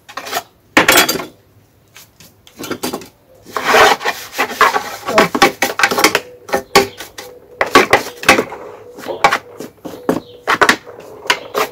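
A small tab scrapes debris from the underside of a Stihl robot lawn mower, producing dense, loud rasping and scraping bursts in irregular runs with short pauses and occasional clinks, close up.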